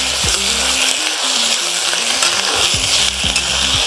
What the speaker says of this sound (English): This wok is now very hot. Now I'm going to add my chicken.